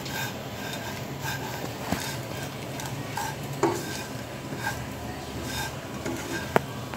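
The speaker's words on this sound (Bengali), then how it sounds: "সব দিক ঘিটা যেন সব সেমাইয়ের মধ্যে লাগে এবং সব দিক যেন এক সমানভাবে ভাজা হয়" Vermicelli fries in ghee for an Eid milk dessert, stirred with a utensil that scrapes and taps the pan in irregular strokes over a soft, steady sizzle, with a couple of sharper clinks near the end.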